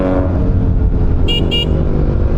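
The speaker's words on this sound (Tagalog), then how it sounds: "medyo malakas yung busina niya" A brief double honk from a Fortress 160 motorcycle horn, two short beeps close together, over a steady loud engine rumble.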